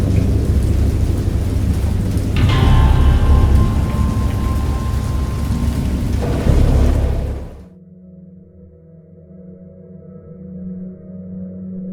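Heavy rain pours steadily while a deep rumble of thunder rolls through, then the storm cuts off abruptly to a low quiet hum.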